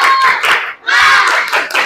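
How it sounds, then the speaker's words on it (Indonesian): A school class performs the rhythmic 'tepuk semangat' clapping chant during an Islamic religious education lesson, loud close-up claps in a patterned rhythm with children's voices shouting along. "Tepuk semangat."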